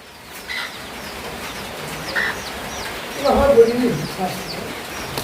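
Hens with chicks cluck and peep inside a bakery, scattered soft calls and chirps close by, with people talking over them.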